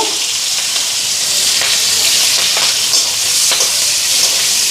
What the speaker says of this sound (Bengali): এদিকে পেঁয়াজ কেটে নিলাম ঢেকির সাগে পেঁয়াজ দিব